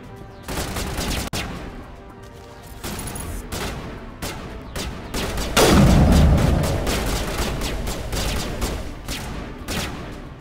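Heavy gunfire from the Mass Effect video game: dense, rapid bursts of shots and a big boom near the middle, continuing loud and near for the whole stretch.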